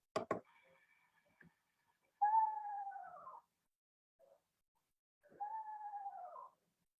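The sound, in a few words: eastern screech owl calling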